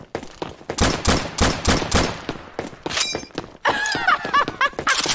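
A big gun fires repeatedly in Left 4 Dead 2, loud sharp blasts coming in quick succession amid busy game noise, followed by a burst of chaotic clattering and rattling.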